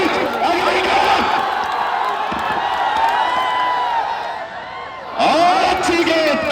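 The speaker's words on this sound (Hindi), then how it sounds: "कोलाहल मच गया इस मैदान पर" Crowd noise at a semifinal cricket match in the ARP Cup, a steady wash of cheering and shouting that dips briefly and then surges loud again near the end, with commentary over it.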